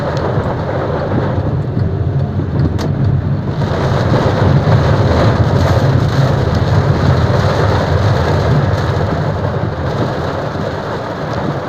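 Heavy rain and a thunderstorm drum steadily on a Volkswagen Gol G6 1.0 during a drive, with wind and a low rumble of thunder beneath a dense, continuous roar that stays loud throughout, no voices.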